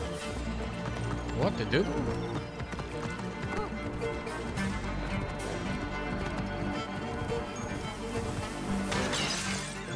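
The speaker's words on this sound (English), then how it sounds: "My horse is not great right now." Horse hooves clop steadily in the Assassin's Creed Origins video game, a continuous galloping rhythm with a brief whinny, under game ambience, crashes and someone talking over it.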